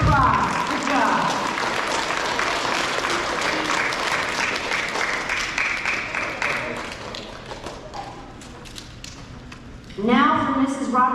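Applause from a school crowd for award winners at an elementary semester awards ceremony, steady broadband clapping for about seven seconds that thins out, then a voice briefly talks near the end.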